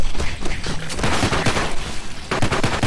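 Rapid bursts of gunfire from a VR zombie shooter game, loud dense volleys of shots overlapping in quick succession with short gaps, continuing across the whole stretch.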